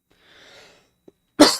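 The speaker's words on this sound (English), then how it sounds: "Sorry for the coughs." A single harsh cough bursts out near the end after a quiet stretch of faint breathy murmur and a tiny click, close and loud against near silence.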